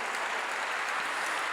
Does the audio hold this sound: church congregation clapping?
yes